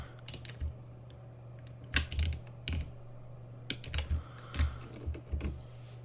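Keys on a computer keyboard are pressed in irregular single and paired taps while a game is controlled, close and clear over a steady low electrical hum.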